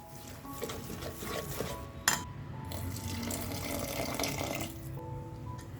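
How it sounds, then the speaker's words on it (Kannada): Water poured into a bowl of ragi flour batter for soft idli, a steady trickling splash at close range with a brief clink of a vessel partway through, heard alone without talk. "ನಾವು ಇದಕ್ಕೆ ಇನ್ನೂ ಸ್ವಲ್ಪ ನೀರನ್ನು ಹಾಕೋಬೇಕು"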